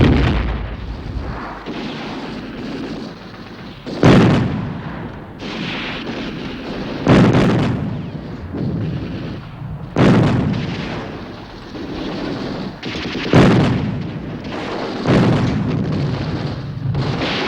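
Heavy artillery booms repeatedly in wartime Madrid during the Spanish Civil War, with loud blasts roughly every few seconds over a constant rumble and rattle of gunfire between them.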